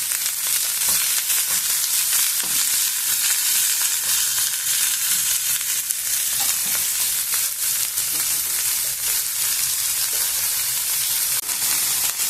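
Onion and broccoli fry in a pan with a steady, close hiss and crackle of sizzling oil, occasional stirring scrapes breaking through the constant sizzle.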